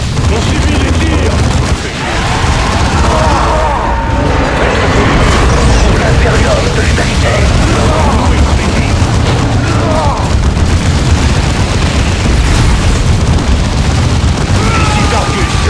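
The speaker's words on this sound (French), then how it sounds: "Intense tir automatisé ennemi." Continuous game-battle din of automatic gunfire, booming explosions and rumbling blasts from Dawn of War 2, dense and loud throughout, with radio-style unit voices speaking over the combat.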